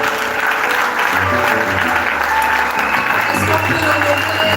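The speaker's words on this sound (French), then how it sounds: "Est-ce qu'on peut acclamer pour le Seigneur?" Audience applause at a women's biblical leadership training session, a dense steady clapping wash that fills the whole stretch, with cheering voices and music-like tones underneath.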